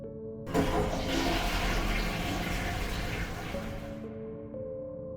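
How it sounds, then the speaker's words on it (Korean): A toilet flushes in a public restroom, a loud, sustained rush and gurgle of water lasting several seconds, then tapering into a quieter refill hiss at the end, with no talk over it. "제가 화장실 문을 열자마자 좌변기 물이 쏴 하고 내려갑니다"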